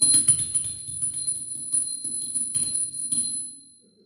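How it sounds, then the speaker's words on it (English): Bells ring in repeated clustered strikes with a sustained high metallic tone, fairly close, then fade away to near silence. "Bell ringers were ringing,"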